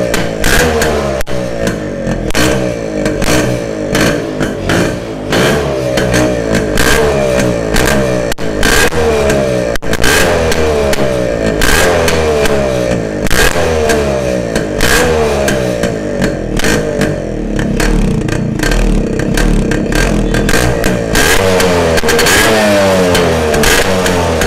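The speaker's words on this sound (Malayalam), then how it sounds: "ഇതാണ് വണ്ടിയുടെ സൗണ്ട് കേട്ടോ." A Yamaha RX100 two-stroke motorcycle fitted with a custom flute exhaust revs hard and repeatedly, close and loud, its engine note climbing and falling in steady waves for over twenty seconds.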